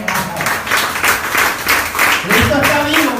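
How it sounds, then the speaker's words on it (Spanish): Congregation at a Spanish-language church service applauding, a steady wash of clapping with rhythmic pulses, mixed with a preacher's voice and some crowd voices throughout. "Dele un aplauso al Señor"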